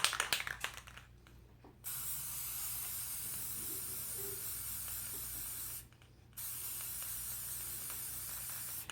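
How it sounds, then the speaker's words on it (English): Two long, steady bursts of chrome aerosol spray paint hissing, separated by a short pause, after some faint rattling at the start. "once we spray paint the chrome in there"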